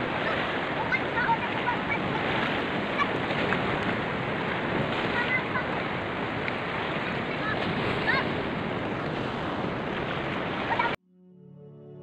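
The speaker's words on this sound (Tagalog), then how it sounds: "medyo malakas na po yung alon" Strong sea waves churn out in the open sea, a loud, unbroken roar of surf and wind buffeting the microphone, cutting off abruptly near the end.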